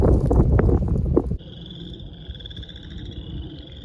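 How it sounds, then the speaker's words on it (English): Chorus frogs calling in an Illinois wetland in March, a loud dense croaking chorus up close that cuts off abruptly, leaving a fainter high trilling chorus in the background. "there's a lot of chorus frogs calling"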